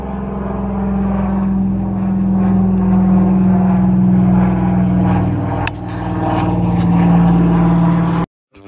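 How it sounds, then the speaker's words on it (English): A plane flies overhead in Alaska, its engine a steady, loud drone that holds for about eight seconds, dipping briefly near the middle before cutting off abruptly. "Barely see that plane through the smoke."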